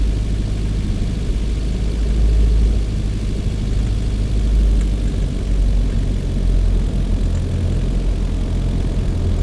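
A manual car pulls away from a standstill in fifth gear, its engine droning low and steady as the throttle is eased in and the clutch slowly released, a continuous loud rumble with no talk.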